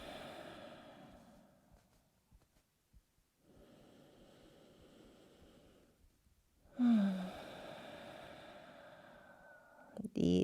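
Slow, deep breaths during a yoga session in child pose, long soft inhales and exhales separated by short pauses, close and hushed, followed by a louder, airier breath near the end.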